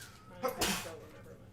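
A single quick sneeze from someone at a table during a tabletop game session, sharp and close, breaking between bits of casual conversation.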